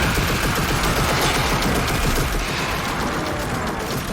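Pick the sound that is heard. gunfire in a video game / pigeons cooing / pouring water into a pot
gunfire in a video game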